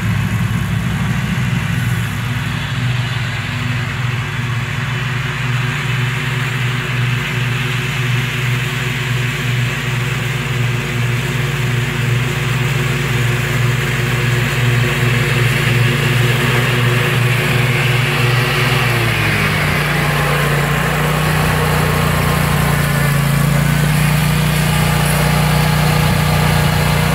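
A remote-controlled zero-turn lawn mower with a 50-inch cut runs steadily with its blade engaged, a continuous loud engine drone whose pitch shifts slightly near the end, with no talking.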